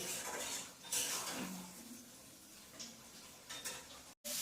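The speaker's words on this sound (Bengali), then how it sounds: "এই দেখো বন্ধুরা আমার এই দেখো মশলাটা ভাজা হয়ে এসছে" Whole spices fry in an iron kadai, giving a soft, steady sizzle with clinks and scrapes of a spoon stirring against the metal, fairly close and without any talking.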